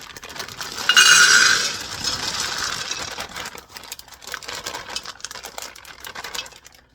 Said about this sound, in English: take this bag of cranberries, which is 2 pounds. I'm going to put it in this crock pot.